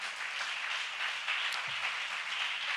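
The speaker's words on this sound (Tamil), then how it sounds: "அவர்களுக்காக ஒரு நல்ல கைதட்டு கொடுங்க பார்க்கலாம்." A church audience gives a welcoming round of applause for Pastor Michael, a soft, even wash of clapping that sounds a little distant and carries on without talk.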